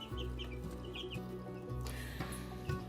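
Hens and two-week-old chicks cluck and peep softly in a coop in short, scattered calls over a low steady hum, with no one talking.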